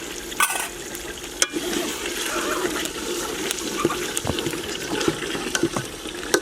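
Water poured into a pot of beef dish seasoned with lemon juice, a continuous splashing wash with occasional clinks, heard alone at moderate loudness.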